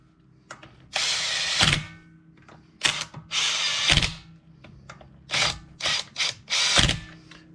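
A power tool spins lug nuts lightly onto a Tesla Model 3 wheel fitted with spacers, in several separate whirring bursts with ratcheting clicks and short pauses between them, up close, with no speech.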